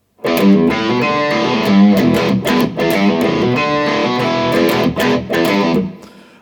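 An electric guitar plays a bright, rhythmic riff of quick picked notes and chords, close and loud, ending with a ringing decay.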